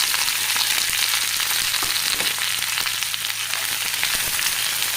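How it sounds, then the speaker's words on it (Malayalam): Onions frying in a pan with ginger, garlic and green chili for an egg curry make a dense, loud, close crackling sizzle that holds steady throughout, with no voices. "ഇനി ഇതിലേക്ക് നമുക്ക് സബോള ചേർക്കാം"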